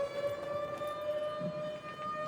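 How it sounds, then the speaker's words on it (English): A steady wailing civil-defense nuke siren in the Insurgency Sandstorm shooter game on a modded map, holding a sustained tone with harmonics throughout, loud and continuous over low rumbling game background. "I don't like the nuke siren."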